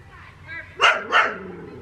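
Several neighbor's dogs bark in two loud, close bursts just under a second apart, with faint whimpering or crying from another dog beforehand and a low hum underneath.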